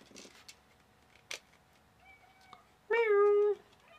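A house cat named Mitten gives one clear, fairly close meow near the end, after a few faint clicks and rustles in a quiet room.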